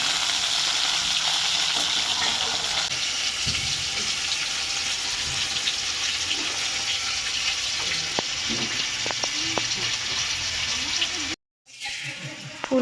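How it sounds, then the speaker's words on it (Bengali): Cauliflower pieces frying in oil in a pan for a winter vegetable paneer dish, a steady close sizzle with a few faint stirring clinks, running continuously before a brief silent gap near the end. "ফুলকপিটাকে এরকমভাবে লাল লাল করে একটু ভেজে নেব"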